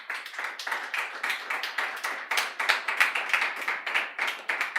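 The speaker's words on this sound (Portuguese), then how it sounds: "Dá uma salva de palmas para Ele." Church congregation applauding at the close of a Portuguese-language sermon, crisp, close clapping with a steady pulsing rhythm, fairly quiet, with no talking over it.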